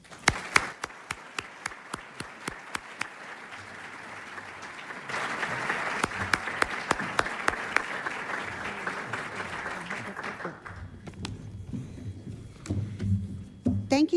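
An audience at a military induction ceremony applauds to welcome Barbara Ashley, steady clapping that builds to a fuller swell before thinning out into room noise and a few scattered sounds.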